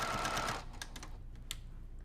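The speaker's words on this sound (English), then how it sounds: "So from here, we're just gonna stitch and then just pull the pins out." A sewing machine stitches a quilt in a short, rapid buzzing run that stops after about half a second, followed by a few faint clicks and handling noises.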